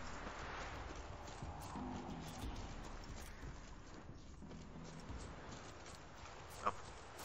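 Horse hooves clip-clop at a walking pace in The Witcher 3 video game, fairly soft under a constant outdoor ambient bed, with a brief louder knock near the end.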